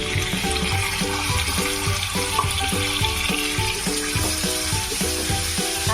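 Tomato paste goes into a chili-ginger-garlic paste frying in a pan, with a continuous loud sizzle and hiss beneath rhythmic background music.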